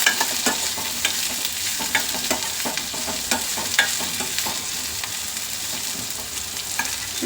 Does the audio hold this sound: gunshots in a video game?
no